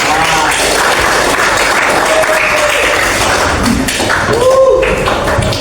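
Children in a classroom clap in sustained applause, a dense continuous patter of hands filling the room, with voices faintly mixed in.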